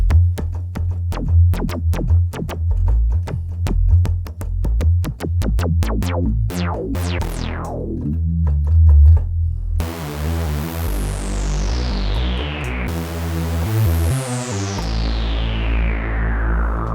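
A DSI Prophet 6 synthesizer line with a dark, low-cutoff filter, notes pulsing rapidly at first, then sweeping filter falls ring out over a steady bass.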